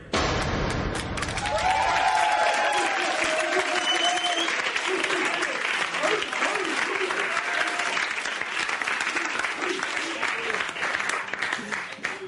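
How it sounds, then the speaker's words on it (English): Studio audience at a 1990 live television show clapping, a broad wash of applause that swells in the first seconds and then holds steady, moderately loud. "Hey, they're clapping."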